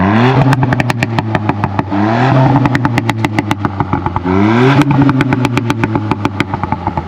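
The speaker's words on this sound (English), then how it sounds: "you might have heard the pops and bangs" A 2022 Ford Fiesta ST Mk8 exhaust pops and bangs close by. A rapid string of sharp cracks crackles over an engine note that rises and falls through repeated revs, with no talk.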